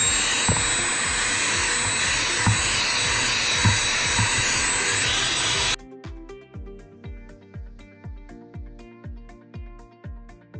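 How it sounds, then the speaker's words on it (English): Shark portable handheld vacuum running inside a car, a loud steady whine for about six seconds before it cuts off, followed by quieter rhythmic music. "It is the brand, it's the Shark brand. And it is a little portable vacuum."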